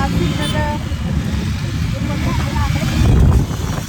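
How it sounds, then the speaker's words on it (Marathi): Road traffic speeding past on the way to Hadapsar, a continuous rumble of passing vehicles with wind buffeting, one louder pass near the end, and people talking over it. "गाड्या सुटलेल्या आहेत स्पीडने."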